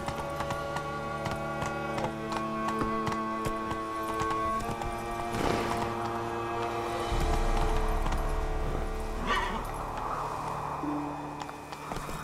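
Roach the horse gallops in The Witcher 3: Blood and Wine, a steady run of hoofbeats carrying on under sustained game music for the whole stretch.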